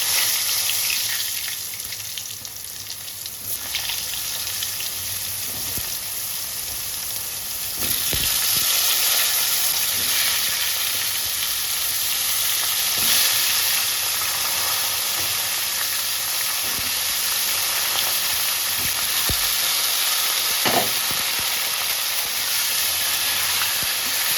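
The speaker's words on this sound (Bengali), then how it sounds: "পটলগুলোকে ডিপ ফ্রাই করে দেবো" Pointed gourd (potol) deep frying in hot oil, a dense continuous hiss and bubbling sizzle close by, steady throughout with occasional faint clicks of a utensil and no talk.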